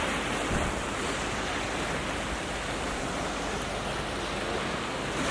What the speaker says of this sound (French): Et le bruit de l'eau, c'est apaisant.